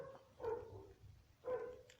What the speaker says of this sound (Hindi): खा पी के भौंकने लगता है कुत्ता मेरा।